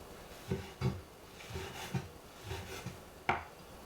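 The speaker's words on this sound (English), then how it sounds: "Slice the aburaage." A knife slicing fried tofu (aburaage) on a wooden cutting board, several soft, irregular taps and thuds spaced through the clip with one sharper knock near the end, close and fairly quiet.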